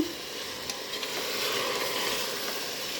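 Vegetables, including papaya, sizzle steadily as they stir-fry in a pan, with a broad hissing wash and faint scraping from stirring, and no voices.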